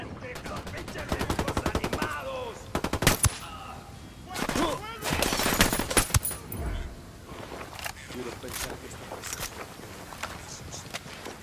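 Gunfire in the tactical shooter Ghost Recon Wildlands: rapid automatic bursts and single shots in several clusters, fairly close and sharp, with quieter gaps and footstep-like movement between volleys.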